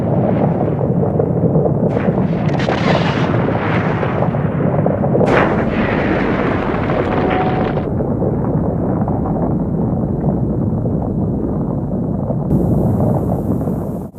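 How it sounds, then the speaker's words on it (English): A giant rocket lifts off, its engines producing a massive continuous roar with crackling bursts and wind buffeting, very loud and sustained throughout, no voices. "The flames were carrying this giant rocket over the sky, far away from the atmosphere of the Earth."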